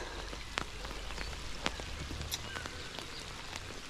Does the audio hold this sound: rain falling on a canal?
yes